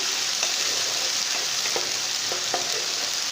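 Onions, tomatoes, green chilli paste and ginger-garlic paste fry in a pan with a steady, close sizzle, broken by occasional soft spatters and stirring clicks.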